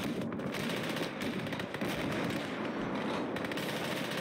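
Sustained machine gun fire in a war game set on the Eastern Front at Voronezh, a dense, continuous crackling barrage of rapid shots with scattered sharper bangs, loud and unbroken throughout.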